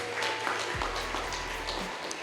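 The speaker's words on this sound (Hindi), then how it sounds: "जोरदार ताली वचन के लिए" A congregation applauds during a church sermon, with a steady wash of clapping filling the hall for a couple of seconds and no speech over it.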